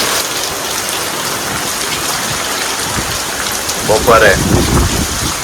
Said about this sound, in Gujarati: આજે તો ભાઈ સુરતમાં ફૂલ વરસાદ આવી રહ્યો છે